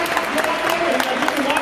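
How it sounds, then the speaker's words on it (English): A concert audience at a Video Games Live show in Berkeley, California applauds in a dense, steady wash of clapping, with someone talking over it. "for one more round of applause."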